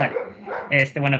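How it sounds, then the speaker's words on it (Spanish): A pet dog barks twice in quick, loud yaps near the microphone during an online class, with a person speaking just before. "perdón por mi perro, siempre que me tengo que exponer se le antoja ladrar."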